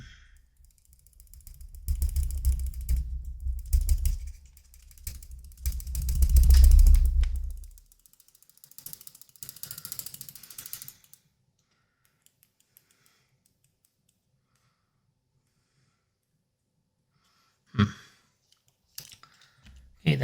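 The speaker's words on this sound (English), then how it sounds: "So what needs to do is to work it back and forth until it's loosened" A stiff rear suspension part on an Atomic MRT EVO RC car is worked back and forth by hand, giving rough mechanical ratcheting and scraping for several seconds, then silence and a couple of sharp clicks near the end.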